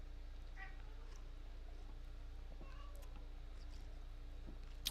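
A pet cat meows for food indoors, a few faint, short calls spaced out over a steady low hum, with no talking.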